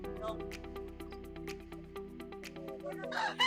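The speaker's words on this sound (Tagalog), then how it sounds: "Nangangakak pa yung isa. Iitlog na yun." ARL pullet hens in a game farm yard, one cackling ahead of laying an egg, with repeated short clucks and calls over a steady low background hum, brief sharper squawks near the end.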